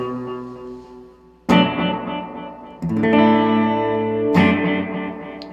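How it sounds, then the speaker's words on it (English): Electric guitar chords played through a guitar pedal set to tape delay and spring reverb, three loud strums each ringing out with echoing, splashy decay and repeats. "That's a nice tape delay and spring reverb sound."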